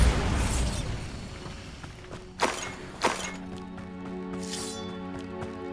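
A Bombarda spell blast in Hogwarts Legacy lands as two sharp shattering bangs about a second apart, with breaking debris, over a steady bed of game music and ambience.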